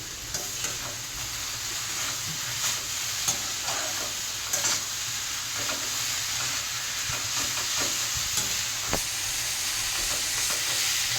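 Chowmein with salt and pepper being stirred and fried in a pan, a steady close sizzle with frequent scraping and clinking of the spatula, no talking.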